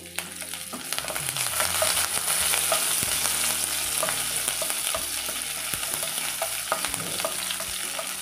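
Dried red chillies, mustard seeds and curry leaves crackle and sputter in hot oil for ivy gourd chutney, a steady close sizzle with scattered sharp pops and occasional stirring scrapes throughout.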